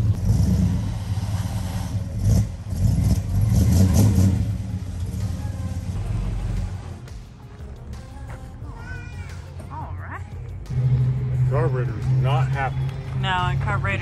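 Plymouth Fury engine running and revving under throttle, a low rumbling drone that surges and settles, with people talking over it for much of the time.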